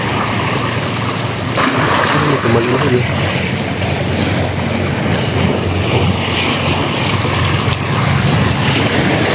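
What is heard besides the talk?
ocean waves washing in at a fishing spot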